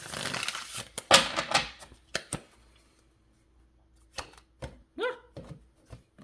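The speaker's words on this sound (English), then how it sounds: "Just want to give these a couple good shuffles." A deck of tarot or oracle cards gets shuffled by hand in a quiet room, with bursts of riffling and crisp slaps, a pause in the middle, then a few more short card flicks.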